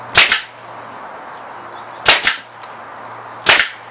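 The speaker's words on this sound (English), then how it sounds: "And then we're just going to staple it." A staple gun fires into fabric stretched over a day bed frame, three sharp double-snap bursts spaced about a second and a half apart, close and loud over a quiet room hum.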